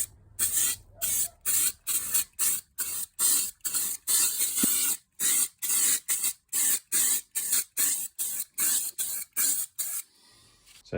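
Rhythmic bursts of spray paint hiss onto a piece of carpet inside a makeshift spray booth, about twenty short loud blasts in steady succession, each separated by a brief silence.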